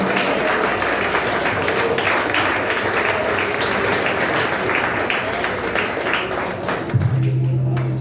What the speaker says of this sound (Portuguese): Dê um aplauso ao Senhor, igreja.